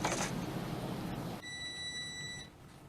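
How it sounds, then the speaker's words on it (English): A kitchen oven timer buzzer sounds a steady electronic tone for about a second, fairly faint, after a stretch of background noise in a home kitchen while bread bakes. "That's the sound of the buzzer, meaning that bread should be baked."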